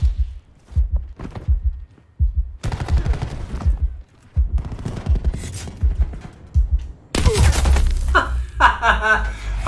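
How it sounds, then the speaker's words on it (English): Bursts of rapid gunfire crackle in a Call of Duty Black Ops 4 match, loud and close, separated by brief pauses, with a voice talking over parts of it. "Teammates nearly shooting us."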